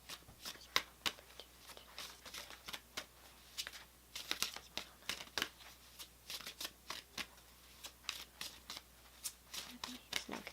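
Cards from an Everyday Witch oracle deck being shuffled and handled, giving a string of crisp riffling flutters and papery slaps at close range, some in quick bursts, with quiet pauses between.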